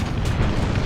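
A tank's ammunition exploding in the War Thunder video game, a short, loud, deep boom filling the whole moment with no speech.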